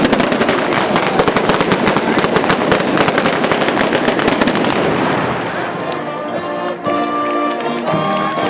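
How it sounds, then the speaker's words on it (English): Ceremonial Feu de Joie rifle volley at a sunset ceremony, a rapid rippling run of gunshots, loud and outdoors, that ends partway through and gives way to lingering crowd and ambient sound. "please stand for the firing of the Feu De Joie"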